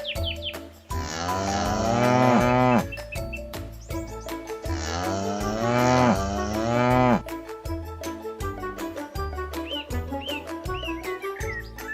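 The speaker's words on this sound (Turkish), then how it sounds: "Gel hadi beraber inekleri fırçalayıp temizleyelim." Cattle being brushed and cleaned give long, loud, close moos, two drawn-out calls one after the other, followed by shorter lowing and faint bird chirps in the background.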